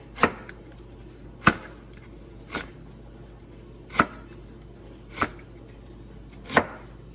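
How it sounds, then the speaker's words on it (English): A knife chops ginger into thin slices for pickling on a board, six sharp, separate cuts landing about once every second or so, close and clear with no talking. "I'm going to go ahead and make thin slices. And we are going to pickle this ginger."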